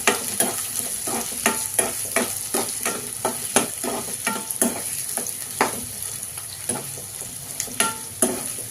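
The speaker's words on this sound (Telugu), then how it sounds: "కలర్ చేంజ్ అయ్యేదాకా వేగలిద్దాం ఆనియన్స్" Onions fry in a pan for a fenugreek-leaf chicken curry, a continuous sizzle broken by regular scraping stirs close by.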